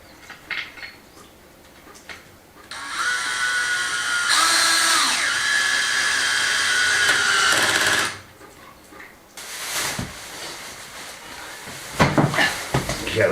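A power drill runs in a long steady whine while backing screws out during a courtyard renovation, starting and stopping in a few close, loud bursts with clunks between.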